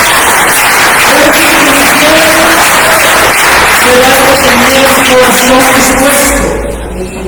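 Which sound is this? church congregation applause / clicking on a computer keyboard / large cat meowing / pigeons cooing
church congregation applause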